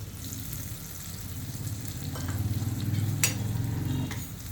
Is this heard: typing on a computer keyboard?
no